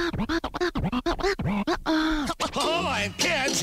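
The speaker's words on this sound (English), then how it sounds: "And now I'm gonna play both whistles together." Two whistles play at once, one holding steady notes while another slides and warbles, over strummed chords and a thumping beat.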